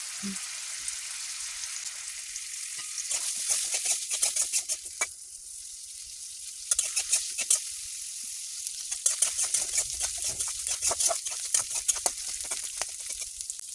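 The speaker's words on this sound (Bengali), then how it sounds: "এটাকে খুব ভালোভাবে ভেজে নিতে হবে।" Steady crackling sizzle of loitta dried fish frying in oil, with a brief louder burst partway through and continued spattering pops throughout, close by.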